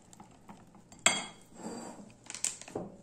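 A spoon stirs cold butter into beaten eggs in a bowl for an apple pie dough, with one sharp clink against the bowl followed by soft mixing sounds and a few lighter taps near the end.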